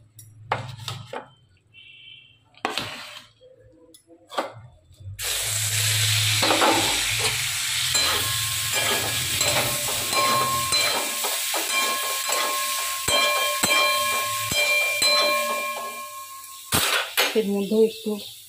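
Soybean chunks hit hot oil in a wok after a few quiet moments, then fry with a loud, steady sizzle and hiss while a spatula scrapes and stirs them close by.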